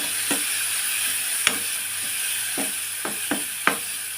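Dried prawns fry in hot oil with a steady, bright sizzle, broken by a few sharp scrapes and taps of a stirring spoon against the pan.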